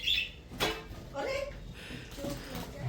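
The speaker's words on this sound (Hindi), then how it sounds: "अच्छा ये तो तोता है ना बाहर" A parrot calls outside with a few faint, high chirps, distant and partly buried under nearby conversation.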